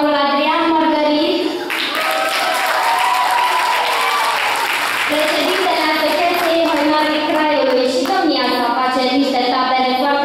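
Sustained, dense applause from a folk music festival audience fills the hall for about ten seconds, steady and loud, with sustained tonal, music-like sounds and scattered voices running beneath the clapping.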